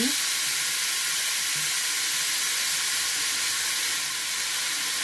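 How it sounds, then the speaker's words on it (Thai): Shrimp and mushrooms stir-fried with soy sauce, oyster sauce and seasoning in a pan, giving a loud, continuous sizzle and hiss that stays steady throughout with no talking. "แล้วก็ผัดทุกอย่างให้เข้ากันดีค่ะ"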